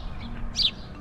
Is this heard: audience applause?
no